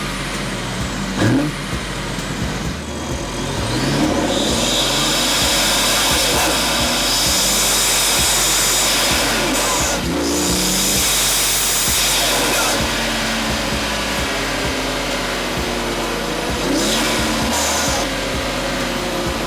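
BMW G80 M3 engine fitted with a BMS intake, heard loud and close through several long rising pulls with brief gaps between them, a whooshing roar filling the clip.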